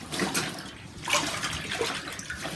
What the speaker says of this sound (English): Here I am running the water now to rinse the second half, laid out in the tub.